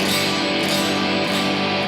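Unmuted electric guitar strings ring out together in a dense, sustained wash of overlapping tones, loud and close for nearly two seconds with slight pulses and no voice.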